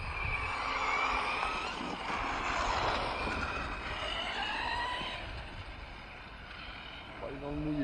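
RC truck on road tyres drifting around an outdoor track, a whining motor with sliding tyre squeals that rise and fall, fairly close, with a voice talking at times.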